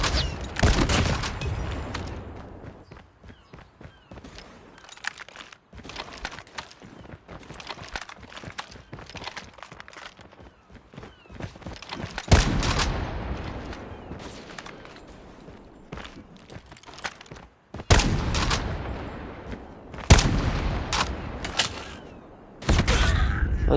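Gunfire in a video game shootout, sharp bursts of shots scattered across the clip with loud clusters near the end, mixed with footstep-like clatter and no talking.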